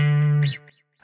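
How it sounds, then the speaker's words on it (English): A short processed electric guitar lick from a 2000s-style pop-R&B production, one sustained distorted, chorus-treated note that bends and fades with a brief trailing flutter, heard alone. "my electric guitar lick, which is this"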